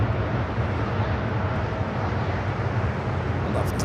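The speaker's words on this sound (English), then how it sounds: "Lufthansa, flight 452, coming in from Munich" Lufthansa Airbus A380 airliner arriving at Los Angeles International Airport, a steady broadband engine roar that stays loud and constant throughout with no voices.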